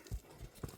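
Quick hooves of a light, fast horse clip-clop in three distinct thuds over a short stretch, close but fairly faint, with no talk.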